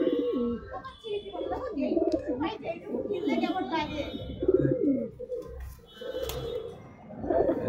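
Domestic pigeons coo softly and repeatedly close by while people talk over them.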